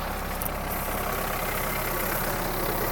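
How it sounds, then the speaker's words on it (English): A Mahindra Roxor engine idles steadily at close range after a cold start, a constant low rumbling drone with no change in pace. "You can see it's idling."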